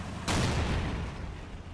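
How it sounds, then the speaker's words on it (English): Artillery fires in Men of War: Assault Squad 2, one sudden loud blast followed by a rumbling, decaying roar of the shot. "Alright, I'm bringing artillery."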